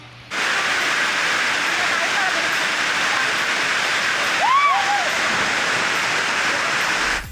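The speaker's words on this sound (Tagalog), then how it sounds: "sakto lang agos ng tubig na dumadaloy galing sa taas ng falls" Steady, full rushing roar of a waterfall fills the whole clip, water falling from the top of the falls at Talon ni Eva in DRT, Bulacan, with a brief bird call rising faintly above it midway.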